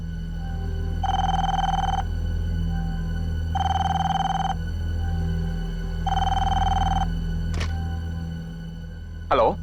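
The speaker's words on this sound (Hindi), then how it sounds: "इतनी रात गई, किसका फोन है?" A telephone rings late at night in a Hindi crime drama, three evenly spaced electronic rings about a second and a half long each, clear and fairly close over a low steady hum, ending in a short rising chirp.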